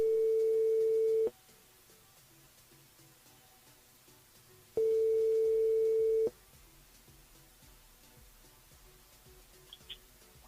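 Steady telephone ringback tones sound during a call placed by a live radio show host, two long clear beeps separated by several seconds of quiet line hiss.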